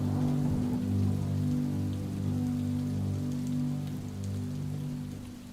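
Steady rain falling over a wide area, an even continuous hiss of drops with a low rumbling undertone, no voices.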